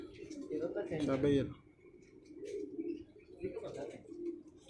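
Soft pigeon cooing in short low murmurs, with a louder voice or call cutting in near the start and gentle coos continuing after.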